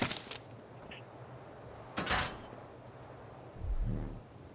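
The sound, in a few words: placing doors on a structure in the video game ARK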